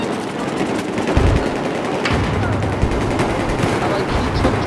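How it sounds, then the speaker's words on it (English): Light machine gun fire in Battlefield 4, a steady dense stream of rapid shots with a few louder bursts standing out, continuous through the whole stretch and mixed with other battle noise. "I don't get why this light machine gun doesn't feel like it does a lot of damage"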